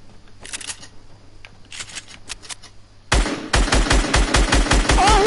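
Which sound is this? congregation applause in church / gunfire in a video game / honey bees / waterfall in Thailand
gunfire in a video game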